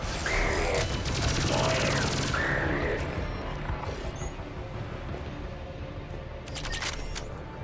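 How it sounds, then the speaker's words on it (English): Video game gunfire in Mass Effect 3 comes as rapid bursts of loud, close shots with clattering impacts, overlaid with electronic chirps and a brief spoken radio line, then tapers into scattered fire. "Headquarters, check your fire."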